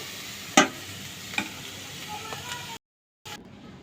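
Vegetable fry stirred in a pan, a soft low sizzle with a few sharp scrapes and clinks of a spatula over about three seconds, then a brief gap of silence.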